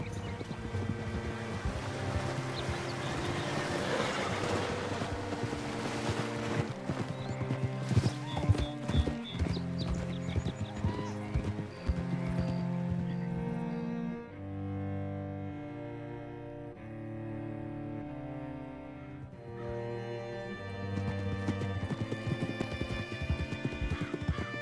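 Horse hooves clip-clop steadily in the video game Red Dead Redemption 2, a long run of rhythmic galloping beats under game music, with occasional snorts and ambient wind.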